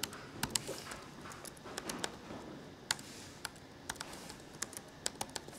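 Computer keyboard keys tapped to enter a password while setting up CCTV management software; irregular, fairly close clicks with scattered louder strikes and no talking.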